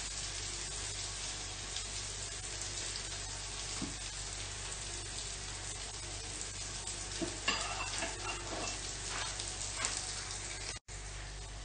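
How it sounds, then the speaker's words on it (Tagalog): Egg poured into a pan of frying eggplant for a Filipino tortang talong omelette, giving a steady, loud hiss of sizzling oil that swells briefly midway before settling back to a constant frying crackle. "Lalagay na natin ang ating itlog."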